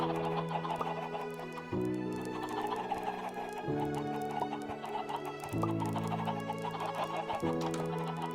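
Chickens cluck and murmur close by, a busy overlapping chorus of short calls over a repeating low tonal hum.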